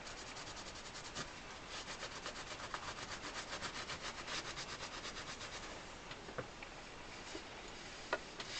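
An old t-shirt rubs back and forth over the register slides of a Crucianelli 80 bass accordion, a quiet, close, rhythmic scrubbing of fabric on the slides with a few light ticks and no voices.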